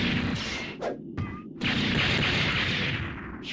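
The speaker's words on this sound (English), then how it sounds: "Lob a grenade at him." A grenade explodes in Mega Man Legends: a loud booming blast, a short gap with small chiming effects, then a second sustained explosive roar that slowly fades.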